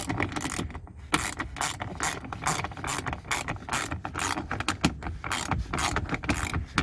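A hand ratchet clicks rapidly and steadily, tightening mudflap screws into a 2019 Toyota RAV4 during installation, with a dense run of close, loud ratcheting strokes and brief pauses between bursts.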